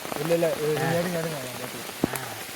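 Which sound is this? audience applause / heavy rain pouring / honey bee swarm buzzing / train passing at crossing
heavy rain pouring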